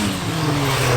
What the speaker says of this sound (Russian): А что это было из глушителя?